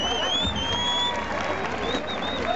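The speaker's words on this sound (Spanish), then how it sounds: "él es el señor Alexander, quien quiero que le brinde un fuerte aplauso." Audience at an outdoor fair show in Tepetlixpa, Mexico, during a bottle contest, applauding and cheering as a crowd, steady and fairly loud throughout, with a busy hubbub of voices mixed in.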